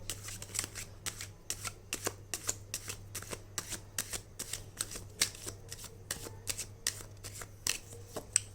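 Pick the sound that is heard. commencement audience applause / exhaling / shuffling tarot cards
shuffling tarot cards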